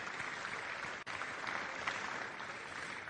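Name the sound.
applause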